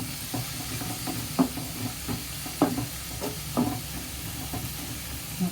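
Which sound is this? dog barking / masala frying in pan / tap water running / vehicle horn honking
masala frying in pan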